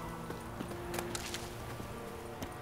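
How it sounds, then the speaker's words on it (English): Hooves of a horse in The Witcher 3 clip-clop in a steady, fairly quiet walking rhythm beneath a dense ambient game background. "Is this just some random horse?"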